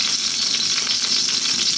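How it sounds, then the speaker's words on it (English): Pork sizzles hard in sunflower oil in a wok over very high heat, a steady dense crackle with no talking. "We're going to start off by dropping in our pork. And we're on a very, very high heat, as you can hear."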